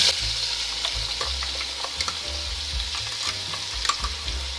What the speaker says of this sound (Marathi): हा मसाला आपण 5 मिनिटे छान असा परतून घेणार आहोत